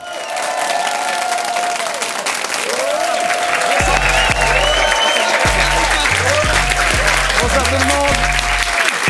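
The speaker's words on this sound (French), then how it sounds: "Il était très long, cet applaudissement." A studio audience delivers long, loud, dense applause with some cheering that runs unbroken for about nine seconds. Musical tones and a man's greeting sound over the clapping.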